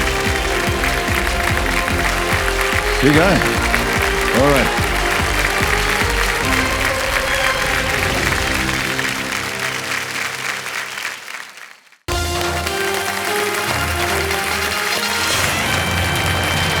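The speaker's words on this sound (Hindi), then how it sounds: "तालियां बजती रहें इनके लिए" A studio audience on the Indian quiz show Kaun Banega Crorepati claps loudly and continuously, with music swelling underneath, then a brief cut to silence before the applause resumes; a host speaks briefly.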